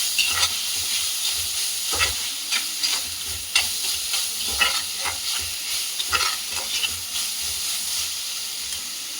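Squid cooks in a hot pan with onions and tomatoes, a close, continuous sizzle broken by regular scraping strokes of a spatula as the mixture is stirred.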